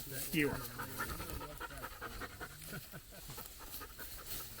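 A dog pants rapidly and steadily close by at a hunt retriever field test, with people talking in the background throughout.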